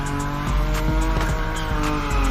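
A Nissan Nismo drifting at high speed in The Crew Motorfest, with loud sustained tire squeal over a droning engine and a few sharp pulsing skid bursts, close and continuous with no voices.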